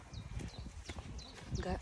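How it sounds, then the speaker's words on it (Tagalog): Horse hooves clip-clop on an outdoor walk in good weather, a few irregular knocking steps heard up close beneath continuous talking and the faint chirps of birds. "Nay kabayo diri, pakita ko sa inyo."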